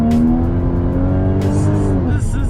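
A 2015 Porsche Cayman GTS engine hums and revs steadily up close, with a rising pitch toward the end and faint voices underneath.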